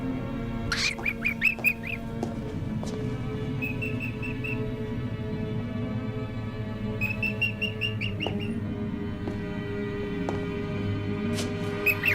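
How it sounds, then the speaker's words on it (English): A pet bird gives repeated short whistling calls in clustered bursts, clear and fairly close, over a steady low background hum. "I must feed my bird."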